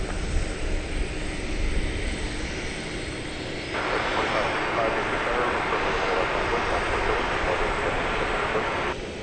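A jet airliner rolls for takeoff at DFW Airport, a broad steady engine roar that swells partway through and holds strong, with radio voices over it.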